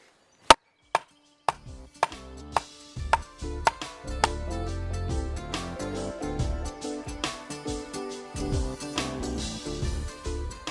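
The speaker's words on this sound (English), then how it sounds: "And then just knock it in alongside your plant." A hazel beanpole is hammered into garden soil beside a plant with sharp, close wooden knocks, first slow and widely spaced, then quicker and more regular blows over a low background.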